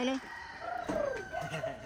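Chickens and a rooster in a rural provincial yard, with short crowing and clucking calls rising and falling over about two seconds, close by, while people talk.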